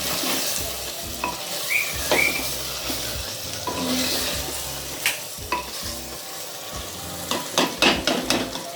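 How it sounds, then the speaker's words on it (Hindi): Minced meat keema with masala frying in a pan for aloo keema, sizzling steadily while a utensil stirs and scrapes in irregular bursts, louder toward the end; no talking. "कीमा हमारा मसाला पूरा भुन चुका था, उसके बाद हमने अब टमाटर डाले हैं"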